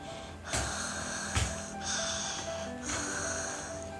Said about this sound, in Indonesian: mendengar dengkuran halus